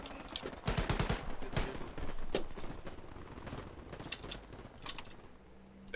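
Video-game gunfire crackles in bursts of rapid shots, loud at first and then more scattered and distant, with mechanical clicks in between and no speech.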